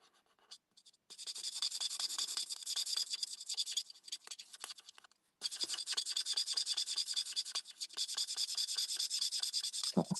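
Coloured pencil shading over paper while colouring with pink tones, a steady dry scratching rasp that runs continuously, pauses briefly near the middle, then resumes, close and moderately loud with no talk.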